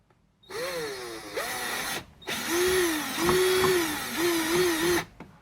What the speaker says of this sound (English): drill a hole, zip tie, drill a hole and zip tie on the other side as well